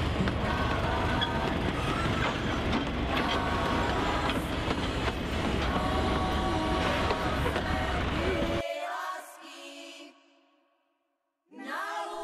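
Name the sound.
forest railway locomotive running on track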